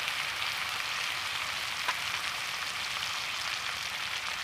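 Food fries in a pan with a continuous, even sizzle and crackle that holds steady throughout. Nobody speaks over it.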